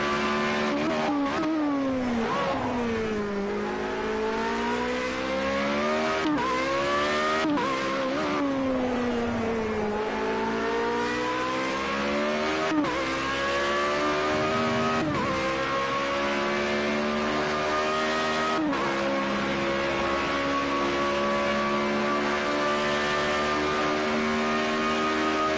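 A Formula Renault open-wheel race car engine in Project Cars 2 revs loud and close throughout, pitch sweeping up through the gears and dropping on shifts, with no talk over it.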